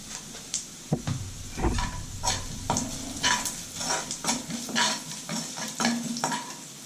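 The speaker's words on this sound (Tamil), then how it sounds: "வெங்காயம்லாம் கொஞ்சம் ரோஸ்ட் ஆகிடுச்சு" Onions fry with asafoetida in a pan, sizzling steadily while a utensil scrapes and stirs in a loose, repeated rhythm close by.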